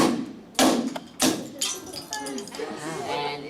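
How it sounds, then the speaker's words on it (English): A hammer strikes an object frozen in liquid nitrogen, giving two sharp, loud impacts a moment apart with a brittle shattering crack, followed by a voice talking. "if you actually hit it with a hammer, what's going to happen? It's gonna shatter."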